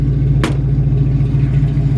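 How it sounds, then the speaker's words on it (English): A 1970 Ford Mustang convertible with a Summit Racing exhaust idles with a deep, steady burble and gives one short, sharp rev, close and loud. "Beautiful sounding exhaust. Everything that I think a Mustang should sound like."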